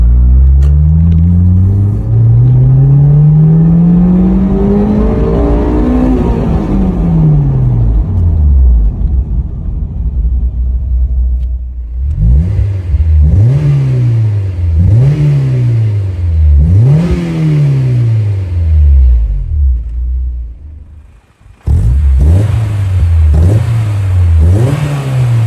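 A loud Honda S2000 engine with a deep Revel Medallion dual exhaust revs repeatedly, rising and falling in pitch through several sharp throttle blips, close by with no talking.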